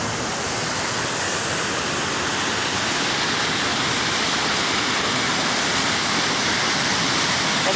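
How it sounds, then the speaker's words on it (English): Continuous thundering rush of Severn Break Its Neck Falls, a sizable waterfall on the River Severn in Hafren Forest, Wales, heard up close, loud and even throughout with no talking. "It's quite loud, this waterfall."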